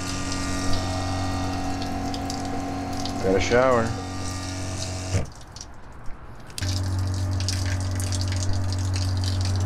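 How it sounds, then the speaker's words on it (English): Pressurized on-board water pump in a Land Rover Discovery 2 runs as a steady, loud hum, cutting out briefly mid-clip before resuming, with a short rising whine and brief talk over it. "It's a pressurized pump, so as soon as the pressure drops, it will kick on."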